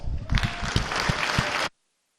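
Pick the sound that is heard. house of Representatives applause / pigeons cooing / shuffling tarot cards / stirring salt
house of Representatives applause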